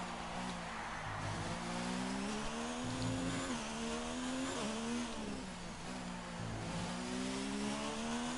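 Several Formula 1 race cars from the F1 2019 video game roar continuously at the Mexican Grand Prix, their engine tones rising and falling as they shift and chase one another through the pack, loud with no voices over them.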